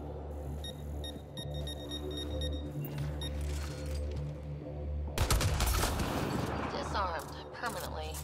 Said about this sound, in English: One shot from the weapon will detonate a mine.